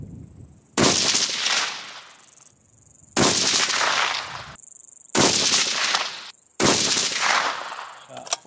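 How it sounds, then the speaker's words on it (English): A 6.5 rifle fitted with an Oryx chassis fires four loud, close shots spaced a couple of seconds apart, each a sharp blast with a long ringing tail, over a steady high insect-like hiss. "the ammo that I'm about to shoot is the same ammo that I shot the first time"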